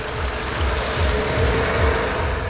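Water gushes nonstop from a shallow pump in the middle of a field irrigating tuberose beds in Ranaghat, Nadia, a steady rushing wash mixed with wind noise, no voices.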